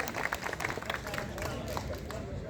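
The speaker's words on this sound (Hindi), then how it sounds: "मोदी जी के लिए भी एक बार जोरदार तालियों से स्वागत और अभिनंदन" Applause rises from a crowd at a protest sit-in at Jantar Mantar demanding Gairsain as permanent capital, a continuous patter of many hands clapping outdoors, with a mix of voices in the background.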